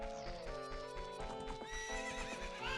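Epona the horse in Zelda: Ocarina of Time lets out a clear whinny over quick, clip-clopping hoofbeats of a gallop, bright and close but faint overall.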